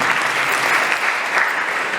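Audience clapping at an investiture ceremony for the president of a university complaints-handling unit, a steady, loud, even burst of applause with no pauses or talk over it.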